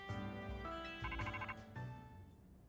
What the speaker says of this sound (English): Oops, that's my phone, my bad.